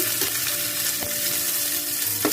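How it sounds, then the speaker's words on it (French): Onions fry in a pan with tomato, giving a constant close sizzle with occasional sharper pops and stirring clicks over the hiss. "Voilà, j'ai ma tomate au feu. Je rajoute mes oignons que je vais d'abord blanchir."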